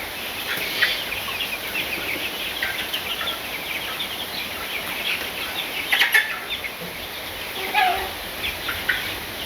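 Chickens cluck and squawk in short bursts while being fed near a flooded home, their calls rising over a constant background hiss with a few louder flurries near the middle and end.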